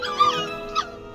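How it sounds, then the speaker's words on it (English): A puppy in the video game My Time at Portia gives two short, high whimpering yips close up, over a faint steady background hum. "gotta feed the puppy"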